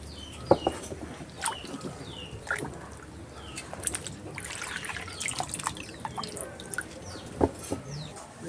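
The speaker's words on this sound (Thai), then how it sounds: "ล้างน้ำเดียวก็พอนะคะเพื่อนๆ" Tamarind being washed in water, with soft trickling and splashing plus a few faint clicks and knocks, quiet and somewhat distant, and faint background sounds.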